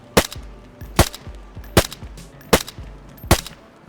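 A P1 9mm pistol firing in the video game DayZ: five loud, sharp shots at an even, unhurried pace, each followed by a short echo.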